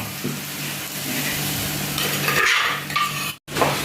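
Fish dropped into a hot pan of oil, a continuous close sizzle with a louder crackling burst partway through, then a brief silent cut before the frying resumes.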